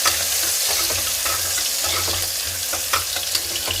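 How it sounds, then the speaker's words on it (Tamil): Onions sautéing in a pan for drumstick leaves soup, a close, steady sizzle broken by rhythmic spoon stirs and scrapes, with no one speaking. "வெங்காயம் போட்டுட்டு அது கொஞ்சம் வணங்கணும். வெங்காயம் நல்லா கொஞ்சம் வணங்கணும்."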